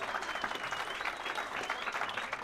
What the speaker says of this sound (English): And if you can give a nice warm round of applause for Neil Caroline.